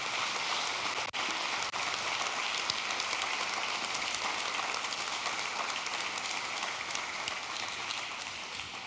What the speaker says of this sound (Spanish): levante ese aplauso para el Rey de Reyes